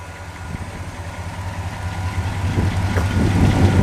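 A 1957 Ford Thunderbird roadster engine idles with a low, steady rumble that grows a little louder and rougher toward the end, with no talking.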